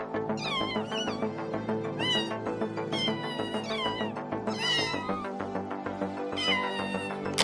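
A baby cat in the Minecraft video game meows over and over, bright and close, with the cries coming one after another in quick succession.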